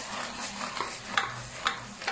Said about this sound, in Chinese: 下入炸好的鸡柳，大火翻炒，翻炒均匀